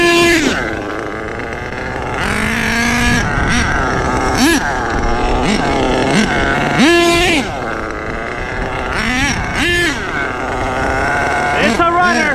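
A rebuilt HPI Savage Classic nitro RC truck runs up close, its small engine loudly revving up and down in repeated whining sweeps with brief drops between bursts.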